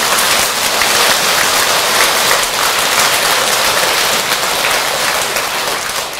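Dense, steady applause from an audience at a Buddhist dharma assembly, a continuous roar of many hands clapping for the full stretch, loud and even with no voices over it.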